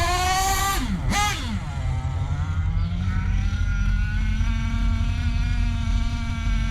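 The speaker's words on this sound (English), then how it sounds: "That revving up and down, that'll calm down." A Hobao Hyper SST nitro RC car engine screams up in a high buzzing rev, drops, then settles into a steady high-pitched whine that wavers slightly, close and continuous.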